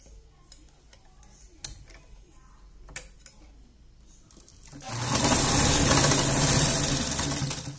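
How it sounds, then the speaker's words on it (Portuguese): A sewing machine stitches a strap on a double-strap blouse. Scattered soft ticks and clicks are followed by a loud, steady, close running whir for the last few seconds. "Nós vamos costurar só nessa primeira alça"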